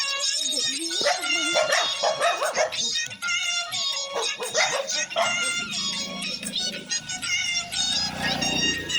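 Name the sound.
dogs barking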